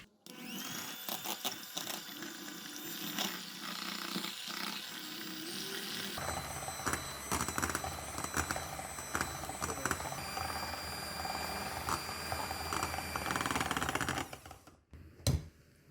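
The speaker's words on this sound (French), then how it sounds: "Moi, je vais juste utiliser un fouet électrique et on va bien fouetter ça" A handheld electric whisk whips eggs and sugar in a bowl for a black forest cake, a continuous close whirring that shifts pitch midway and rattles against the bowl before cutting out near the end.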